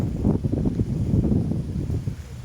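Strong wind roars steadily and close against the microphone, a dense low rumble with gusty swells and buffeting, with no voices.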